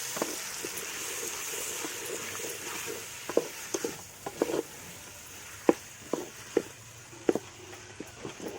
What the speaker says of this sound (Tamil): தக்காளி பச்சை மிளகாய் சேர்த்துட்டு நல்லா வதக்கிட்டுக்கலாம்.